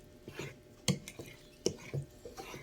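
Utensil scraping and clinking against a bowl while puto cheese batter ingredients are mixed, with a few sharper knocks standing out over soft, quiet stirring.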